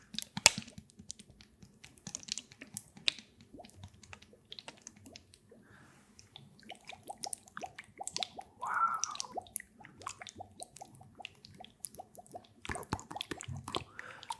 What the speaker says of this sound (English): These two are unbelievable, in my opinion, for liquid sounds, because they make very gushy sounds